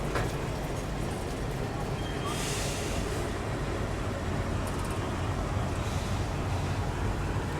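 Steady rumbling of the Vikramshila Express departing Prayagraj Junction, heard from a 3rd AC coach, with rattling and rolling noise throughout, a brief hiss rising partway through.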